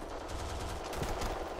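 Automatic gunfire rattles in the online shooter Black Squad, a loud, rapid burst of shots fired in quick succession with no pauses.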